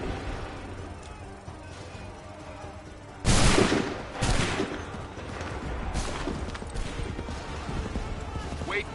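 A musket volley in the video game Assassin's Creed 3 booms out as one loud, sharp blast, followed by a smaller crack and a fainter shot over a murmur of battlefield noise and voices.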